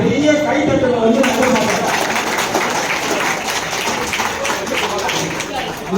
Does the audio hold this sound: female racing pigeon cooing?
no